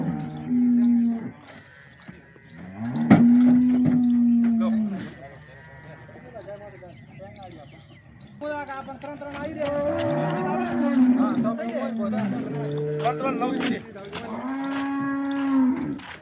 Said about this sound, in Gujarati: આ ચોથા નંબરની ગાય ચડે છે